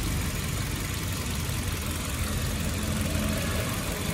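Automatic 2009 Kia Carens engine idling, a steady smooth low hum with even vibration throughout, close and continuous with no talk.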